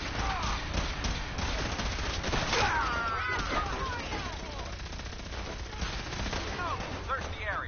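Gunfire in Fallout 4, a dense, continuous fusillade of rapid shots and bursts with ricochet-like whines, loud and close throughout, with voices shouting intermittently in the mix.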